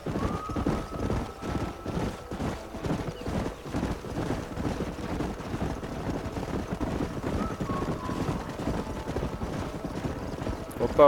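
A horse gallops in the Red Dead Redemption video game with steady, rhythmic hoofbeats that carry on the whole time over low background noise.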